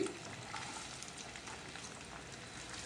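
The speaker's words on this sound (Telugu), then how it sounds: "నా ఆయిల్ హీట్ అయింది ఇప్పుడు ఇందులో ఉల్లిపాయ వేసేసుకుందామండి" Onions dropped into hot oil in a kadai for a prawn tomato curry, frying with a steady, close, dense sizzle that holds evenly throughout, with no voices.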